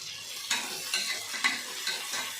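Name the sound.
onions frying with salt for biryani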